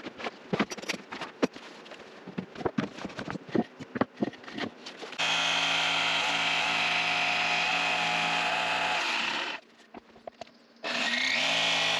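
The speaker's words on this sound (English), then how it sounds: "I'm going to be using a drill bit to get each corner or edge of the slot, and then following that with my jigsaw." A power drill bores into wood with a drill bit while cutting a slot for a wooden wedding card box, with scattered knocks and handling noise at first, then a steady loud whine that cuts out briefly before resuming.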